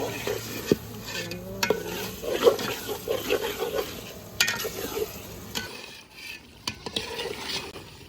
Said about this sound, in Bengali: মাংসটা খুব ভালোভাবে কষে নিয়ে